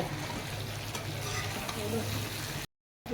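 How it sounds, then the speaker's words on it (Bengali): Goat meat (mutton) frying in a pan, a continuous close sizzle with soft stirring sounds, cutting to brief silence near the end. "মাংস ভাজা হয়ে একটা আলু দিন"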